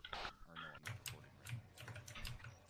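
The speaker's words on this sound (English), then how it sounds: "Oh, I'm so sick of hearing that keyboard already." Computer keyboard typing in an Arma 3 military realism game session, a string of quick clicky keystrokes in an irregular rhythm, mixed with a voice talking over them.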